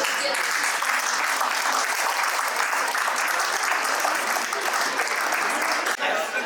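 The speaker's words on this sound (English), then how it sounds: "let's give a huge round of applause to Mrs. Vijaya Joshi." A large audience at a school alumni meet breaks into loud, sustained applause, a continuous dense wash of clapping that holds steady throughout without letting up.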